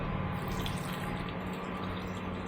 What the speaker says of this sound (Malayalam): വെള്ളം ഒഴിച്ചില്ലല്ലോ, ഒഴിക്കാൻ പോവാം